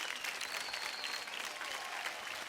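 Steady applause from a studio audience at a televised Marathi dance competition show, dense and even clapping filling the whole moment without pause.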